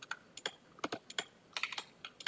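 Someone types Rust code on a computer keyboard: quiet, irregular clicking keystrokes in short clusters, close and alone without talk.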